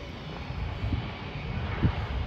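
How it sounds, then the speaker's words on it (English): Cargo Boeing 767 jet coming in to land at Charlotte airport, a steady, continuous engine roar at moderate distance with a few low rumbling swells, no voices. "there's a couple of cargo 767s come in"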